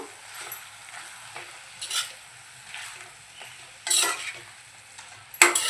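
Garlic and masala for a dry Malvani-style mutton sukka being stirred in a pan, with scraping strokes and soft sizzling that rise in a few louder bursts, heard alone without any voices.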